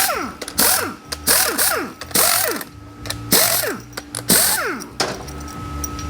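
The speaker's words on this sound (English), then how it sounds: "Let's get the pump bolts out of here." A ratchet loosens transmission pump bolts on a Cadillac 4L65E, with loud, close bursts of rapid clicking, each burst followed by a short squeaking swing of the handle, repeating several times in a steady rhythm.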